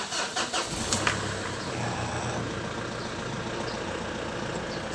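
A 2017 Mitsubishi L200 pickup engine cranks briefly and catches, then settles into a steady, close idle that runs on alone with no talk.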